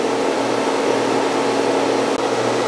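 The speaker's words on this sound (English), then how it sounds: "Here's that first layer of weld on there." Arc welding a hardfacing rod onto a bush hog blade produces a loud, continuous crackling hiss that stays steady throughout, with one brief dropout near the end.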